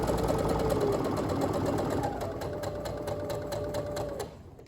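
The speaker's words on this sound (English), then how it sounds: "I just go ahead and chain stitch all of these together and then snip them apart." A sewing machine runs steadily, chain stitching quilt binding strips together in one continuous close, loud whir that winds down near the end.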